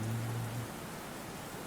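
Rain falls steadily behind a song, a soft broadband hiss that continues alone after a brief low sustained tone fades.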